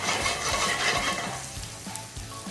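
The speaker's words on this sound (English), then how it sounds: "We're going to stir this up while it cooks." Food sizzles and fries in a $38 French steel pan as it is stirred, with scraping strokes at a steady rhythm over a continuous close hiss and no talking.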